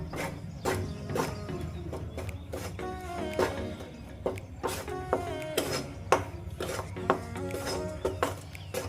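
Food being stirred and roasted in a pan, with repeated close scraping and clinking of a utensil against the metal in an uneven rhythm and no talking.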